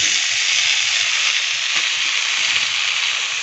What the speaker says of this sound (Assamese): এতিয়া মই কচুখিনি সিজাই ল'ম ইয়াতে কচুখিনি দিছোঁ